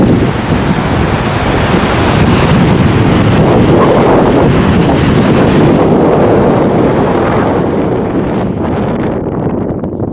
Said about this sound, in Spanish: Este es el lago Titicaca y la playa en la isla de Taquile.